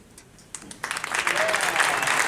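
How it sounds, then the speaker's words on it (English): A seated audience breaks into applause that starts with a few scattered claps and swells into steady, fairly close clapping from a large crowd over the last second and a half. "Let's give you a round of applause"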